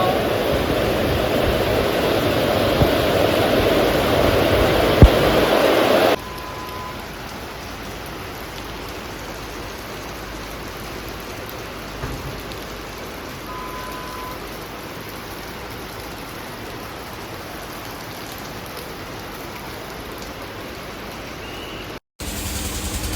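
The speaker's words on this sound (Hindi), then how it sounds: "बहुत तेज बारिश हो रही है गाइस।" Steady, dense night rain hiss on the way to Kedarnath in Uttarakhand, with a heavier downpour at the start that drops to a constant, softer rainfall, then briefly cuts out near the end.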